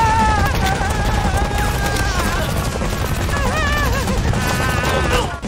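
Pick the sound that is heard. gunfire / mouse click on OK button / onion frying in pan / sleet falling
gunfire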